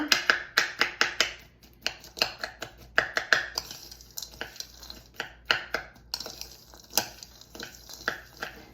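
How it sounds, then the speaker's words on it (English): Brown sugar and nuts being stirred together in a bowl for grape salad, a series of sharp clicking and scraping knocks of a spoon against the bowl in an irregular rhythm, close and moderately loud, with no talk. "Mix it all together"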